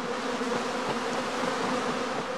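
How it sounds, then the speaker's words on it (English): Honey bees swarming at a heather skep apiary, a steady dense humming drone of many insects that holds evenly throughout with no voices. "the bees continue to move about restlessly while humming loudly"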